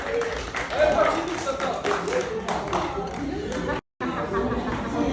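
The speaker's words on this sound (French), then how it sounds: "Applaudissez s'il vous plaît" A live audience applauds and chatters through a lively crowd moment, steady clapping mixed with babble and voices from start to finish, with one brief dropout near the end.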